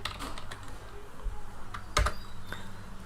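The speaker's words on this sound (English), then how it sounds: "I'll just type it in here" Computer keys clack in quick irregular bursts, near and fairly quiet, with brief pauses between keystroke runs.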